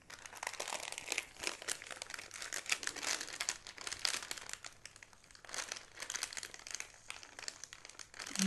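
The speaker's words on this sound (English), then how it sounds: "you can enjoy the crackly sounds as I peel the sticker slowly, gently." A gold-foil fox sticker is peeled slowly and gently, giving close, continuous crackling and crinkling that swells and fades in uneven waves, with no talking.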